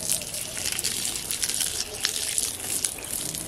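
Water gushes and splashes onto open ground and garden plants outside a home. The flow is steady and fairly loud, with sputtering bursts throughout.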